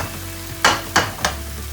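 Chopped onion with a splash of water in a pan, a soft steady sizzle under three sharp stirring scrapes spaced evenly, close to the microphone, no voices.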